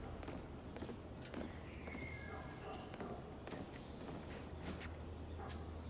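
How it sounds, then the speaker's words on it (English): Horse hooves clip-clop on a street in the video game The Order: 1886, set in a chilly London morning, a faint, irregular clatter of hoofbeats amid quiet ambient street noise and occasional creaks. "Oh, horsey."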